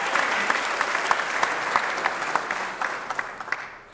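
An audience at a small business recognition awards event applauds a Senate candidate, a moderate round of many hands clapping with sharp individual claps standing out, tapering off toward the end.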